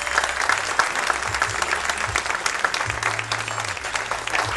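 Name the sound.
audience round of applause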